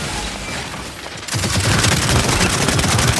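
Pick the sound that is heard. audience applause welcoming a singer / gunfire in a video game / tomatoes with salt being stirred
gunfire in a video game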